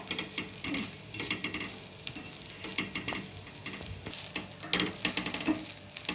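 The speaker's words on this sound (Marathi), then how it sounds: "व्यवस्थित कांदा परतून घ्यायचा आहे लालसर होऊ द्यायचा आहे कांदा" Onions browning in a pan, fried and stirred steadily, with a continuous close sizzle and repeated scraping strokes of the spoon, no voices.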